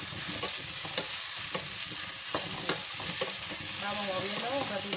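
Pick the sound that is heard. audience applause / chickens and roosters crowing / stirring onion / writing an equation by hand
stirring onion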